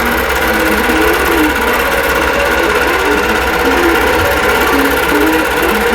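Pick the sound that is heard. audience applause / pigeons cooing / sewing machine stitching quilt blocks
sewing machine stitching quilt blocks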